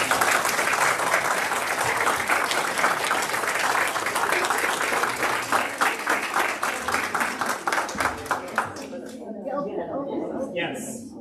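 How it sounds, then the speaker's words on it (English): Parish members at a church annual meeting giving a round of applause, loud and dense clapping from a crowd that holds steady, then breaks into looser, individual claps and fades as a voice starts talking. "Give them a round of applause."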